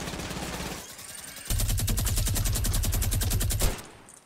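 Rapid automatic gunfire in Fortnite, a dense burst of evenly spaced shots lasting about two seconds after quieter scattered firing, loud and close with no talk.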